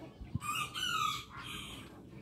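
Chickens in a backyard coop, a rooster crowing twice in drawn-out calls over soft clucking and low farmyard background, fairly close and clear.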